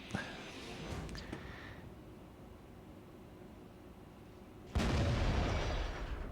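Artillery shells boom in the World of Tanks video game: a sharp blast at the start, a quieter rumbling stretch, then a second heavy, loud explosion near the end.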